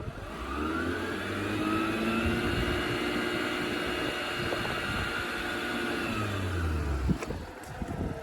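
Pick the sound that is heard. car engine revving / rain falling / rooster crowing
car engine revving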